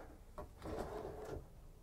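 Quiet-closing bathroom vanity drawer in a 2023 Newmar Essex 4595 motorhome, a single soft sliding close with a brief thump, then a smooth gliding rumble that settles, faint and close.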